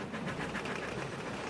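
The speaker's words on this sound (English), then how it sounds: "a goods train came rushing through much too fast." A goods train rushes along the rails much too fast, a dense, steady rumble and roar that fills the moment without pause.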